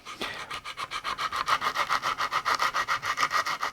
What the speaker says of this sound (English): I'm just going to lightly sand where I know the glue will be in contact with the sides.